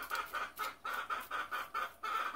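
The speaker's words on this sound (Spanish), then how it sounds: "Oigan la gallina." A hen clucks in a steady run of about nine short, repeated calls on a farm, close and fairly loud, with no talking over it.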